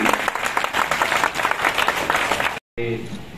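Applause from an audience at a trade association's traders' day award ceremony, dense sustained clapping for about two and a half seconds, then a brief cut and quieter talk over a hall.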